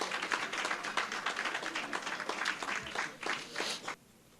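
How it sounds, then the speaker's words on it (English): Audience applause for children at a primary schools spelling bee, a dense wash of clapping that holds steady for about four seconds and then stops abruptly, leaving quiet. "let's give them a round of applause"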